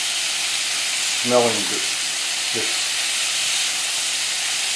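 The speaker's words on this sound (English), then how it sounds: "I'm going to cook my onions here. My protein is cooking over here." Onions and Merguez-seasoned sausages fry in a hot pan with a steady, close, loud sizzling hiss, and a voice speaks briefly early on.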